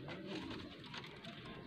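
A racing pigeon coos softly in low, rolling, throaty notes, faint and fairly close, with no other sounds around it.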